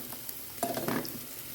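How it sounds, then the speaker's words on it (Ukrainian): Oil sizzles steadily as onions fry, with a brief burst of stirring and clatter midway, close by. "смажиться цибулька"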